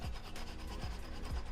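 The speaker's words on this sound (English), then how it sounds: "what I have here is a ginger grater." Fresh ginger is rubbed back and forth on a ceramic grater, giving quiet, close rasping strokes with about three rhythmic scrapes in a short burst.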